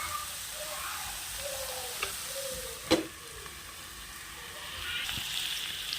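Chopped onion frying in a pan for egg bhurji, a steady soft sizzle with occasional faint stirring clicks and one sharper tap against the pan, heard close up and without talk.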